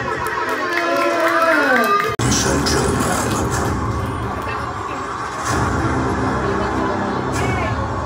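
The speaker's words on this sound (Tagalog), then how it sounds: "So malakas sa palakpakan na may kasamang sigawan." At a child's first birthday party, a crowd erupts into loud applause and shouting right after singing ends, a dense, sustained roar of clapping and cheering voices.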